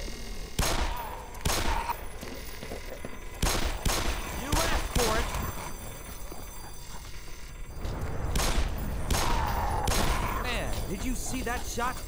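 Repeated gunfire from a security guard in Black Mesa: several sharp shots, single and in quick pairs, ring out over constant game ambience, with a spoken voice partly underneath.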